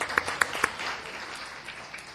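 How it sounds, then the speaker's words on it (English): Brief applause from a city council meeting audience for the Mayor of South El Monte, a few distinct sharp claps up front, then a soft, thin patter that fades quickly. "Give him a round of applause."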